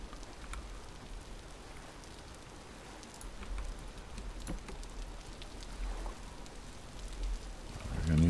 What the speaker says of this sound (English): Except it is raining.